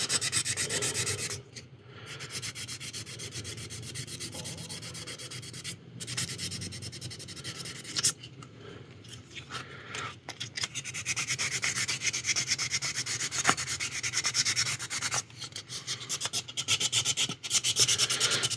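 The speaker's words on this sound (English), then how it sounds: "you sand and you look for imperfections. If there's an imperfection, you try to sand it out." Primer is sanded off a resin model kit part by hand, a steady scratchy rubbing in repeated strokes with short pauses between passes, close and fairly quiet.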